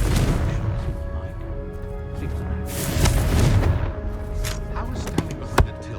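A Confringo blasting spell in Hogwarts Legacy erupts with deep booming blasts and rumbling thuds, a heavy explosion swelling midway and a sharp crack near the end, with a voice speaking over it.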